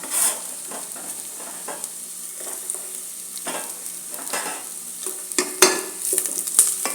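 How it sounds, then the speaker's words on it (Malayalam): Chopped onion, green chillies and lentils fry in a pan while being stirred, a soft sizzle broken by scraping spoon strokes and clinks that come in bursts, louder near the end, close by with no speech. "ഇതൊന്ന് നന്നായി ഇളക്കി യോജിപ്പിക്കുക"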